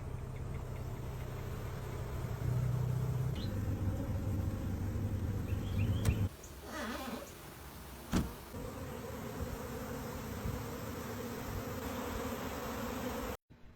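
Bees from a colony living inside a house wall make a steady, close buzzing drone that lasts throughout, with a few brief knocks and shifts in loudness.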